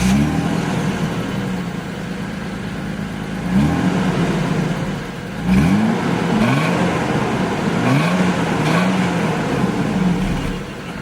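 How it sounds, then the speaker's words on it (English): A 1989 Toyota Soarer starts up, settles into a steady idle, then gets several short throttle blips that rise and fall in pitch, heard close and with no talk. "Now I'm gonna start it up."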